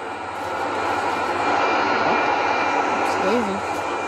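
Airplane engine in a flight video game, a loud continuous propeller drone that holds steady throughout with a slight rise midway, with faint game sound effects layered over it.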